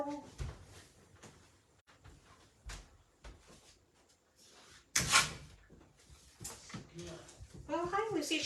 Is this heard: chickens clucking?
no